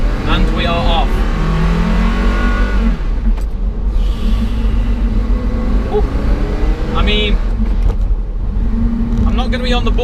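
Porsche Carrera GT with a manual gearbox pulling away and accelerating, its engine note rising loud and close through the gears under continuous in-car talk.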